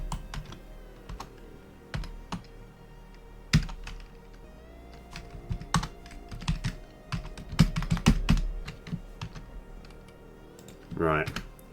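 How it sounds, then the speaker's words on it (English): Rapid, heavy typing on a computer keyboard while writing a totem script for a card game, with dense bursts of clacking keys and loud thumps, a short voice sound near the end. "So I realise I do sometimes just attack the keyboard."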